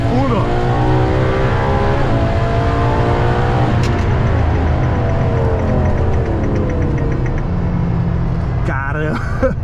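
A Ferrari LaFerrari accelerates at full throttle from inside the cabin, its engine climbing through loud rising gear sweeps with shifts, while a voice speaks over the roar.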